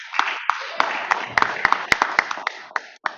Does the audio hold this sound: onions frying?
no